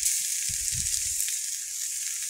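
Garlic cloves frying in hot oil in a home kitchen, giving a steady close sizzle with a bright hiss throughout and a few low bumps and clatters near the start.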